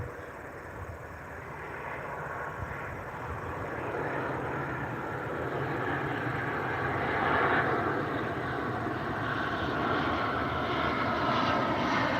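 Spirit Airlines airplane flying overhead, a steady broadband engine roar that swells gradually and holds loud through the clip, with no talking.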